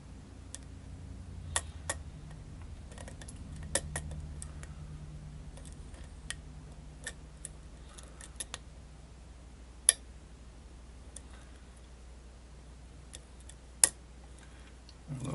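Sparse, faint metallic pin clicks from picking an ASSA ABLOY Corbin Russwin lock, isolated ticks scattered over a quiet low hum, with a couple of sharper clicks standing out.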